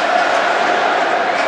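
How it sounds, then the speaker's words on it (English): A football stadium crowd waits before Brazil v France at the 2006 FIFA World Cup, giving a steady, dense roar of many voices that holds at a constant level with no single voice standing out. "The crowd extremely expectant here."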